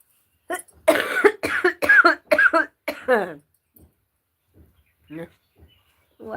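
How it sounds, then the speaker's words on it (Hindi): A woman coughs in a quick run of several harsh bursts close to the microphone, then goes quiet apart from a few faint later sounds, during a live Awadhi folk song session. "वाह मेरी खांसी,"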